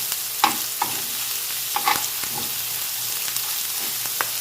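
Korean samgyeopsal pork belly frying at home sizzles steadily up close, with scattered sharp pops and the scrape of stirring or turning over a constant hiss.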